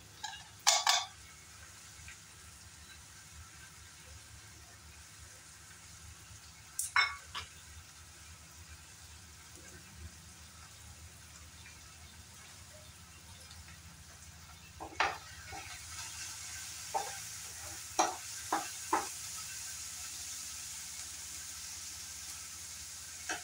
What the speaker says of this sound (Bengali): পেঁয়াজটা একটু কালার আসা পর্যন্ত ভেজে নিব